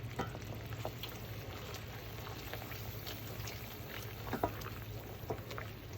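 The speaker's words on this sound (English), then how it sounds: "So it's just going to keep boiling down until we get the nice caramel color, golden color" A pot of sugar wax mixture boils down on the stove, giving a soft, continuous bubbling and light sizzling with scattered small pops, faint and steady, heard alone without talk.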